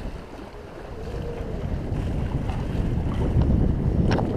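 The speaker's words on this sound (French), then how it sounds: "c'est les bateaux de pêcheurs qui ont le pot d'échappement dans l'eau" Fishing boats with exhaust pipes underwater make a low, continuous bubbling rumble over wind and sea noise, steady and building slightly, heard from a sailing cruise off Sardinia between Port Flavia and Calasetta.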